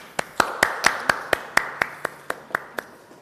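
Clapping at a social innovation forum on the climate crisis: about a dozen sharp, evenly spaced claps in a slow steady rhythm, crisp and fairly near, with no talk over them.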